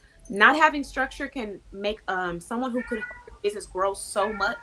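A cat meows outside under continuous talk, its cries faint and partly masked as a person keeps speaking over them.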